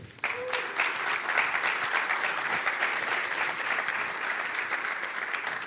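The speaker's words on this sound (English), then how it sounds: "So can we get a big round of applause for Duje?" A conference audience at PyCon Balkan 2018 applauds a speaker with steady, dense clapping that starts abruptly and holds at an even level throughout, filling the hall without any speech.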